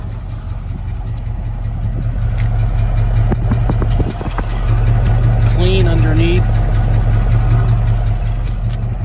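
A 1970 Ford Mustang with a 302 V8 idles steadily, a low constant rumble throughout, while a person talks briefly over it partway through.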